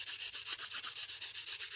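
Sandpaper rubbed back and forth over charcoal dust on a figure drawing, a steady rhythmic scratching of about ten quick strokes, close and fairly quiet, with no talking.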